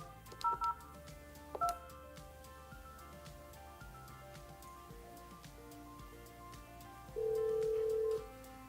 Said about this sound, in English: Place the second phone call.